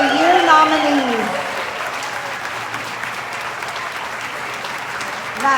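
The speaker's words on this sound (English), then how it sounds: "Can we give one more round of applause for all of our Teacher of the Year nominees?" A crowd applauds Teacher of the Year nominees at a county award ceremony, loud sustained clapping that holds steady, while a voice speaks briefly at the start over the clapping.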